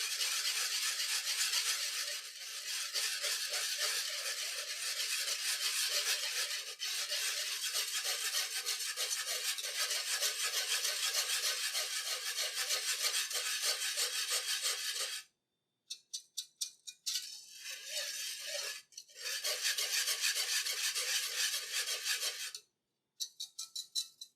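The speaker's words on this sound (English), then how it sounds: "We're going to whisk right into that brown roux." A whisk scrapes and stirs briskly through brown roux for a vegetable gumbo, making a fast rhythmic rasping close by. It runs steadily for about fifteen seconds, then breaks into shorter bursts separated by silent gaps.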